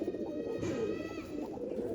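Blue-barred pigeons cooing softly in a loft, low murmuring coos overlapping steadily over faint background noise, with no talk.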